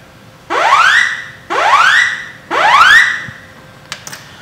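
A TOA FV-200 evacuation alarm sounds three loud rising whoop tones, each about a second long with short gaps between them, followed by a few faint clicks.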